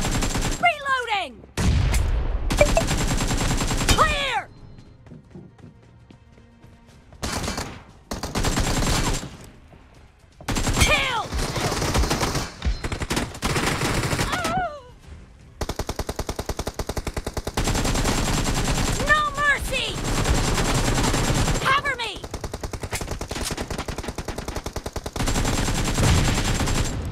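Rapid machine gun bursts in a team deathmatch video game, loud and repeated in several long volleys separated by brief pauses, with game voice callouts and other combat effects mixed in.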